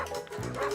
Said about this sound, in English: the family mutt a chance to play sled dog